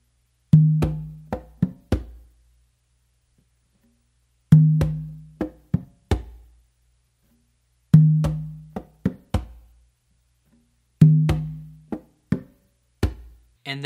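Hand drums playing a yambu conga pattern, with finger taps on the tumba and a left-hand bass stroke on the conga. The same short phrase of sharp taps and deep thumps repeats four times, close and clear, with silence between each phrase.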